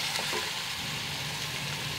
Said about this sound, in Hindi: भुनाई हुई है अदरक और लहसुन के पेस्ट के साथ अपने चिकन की